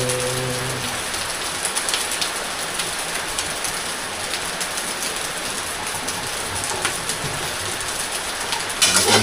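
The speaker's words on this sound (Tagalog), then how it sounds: "Tumitigil ang ulan." Steady rain falls continuously, a dense hiss of drops hitting surfaces, with a brief lower tone at the start and a few louder splashes near the end.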